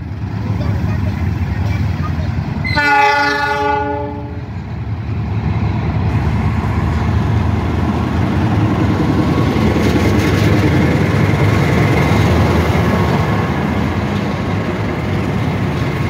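A locomotive on the Pangrango–Siliwangi train rolls slowly out of a station with a steady, loud rumble. A brief tonal horn-like sound rises early, and the rumble continues throughout.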